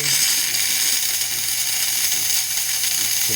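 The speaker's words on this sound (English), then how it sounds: "You can see the steam is working great." The steam wand of a DeLonghi EC-680 espresso machine, just serviced, hisses loudly and steadily with a faint low mechanical hum underneath and no talk.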